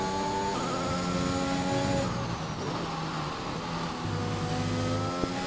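An F1 race car engine in a video game lap, a steady high-pitched drone that shifts pitch with gear changes as the car powers through a corner and down a straight, with no talk.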